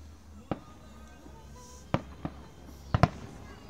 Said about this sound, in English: just enjoying the fireworks, 4th of July